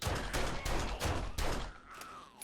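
Pistol gunfire in the zombie survival game 7 Days to Die: about five loud, punchy shots fired in quick succession, each with a short decaying tail, then a brief quieter pause.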